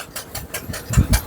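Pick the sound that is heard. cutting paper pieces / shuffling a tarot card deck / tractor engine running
tractor engine running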